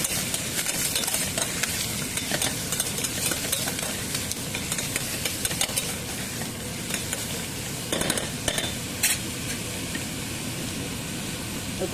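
Onions and a sprig of curry leaves sizzle steadily while frying in a pan for a Tamil big beans curry, with repeated scraping stirs over the continuous crackle; no talking.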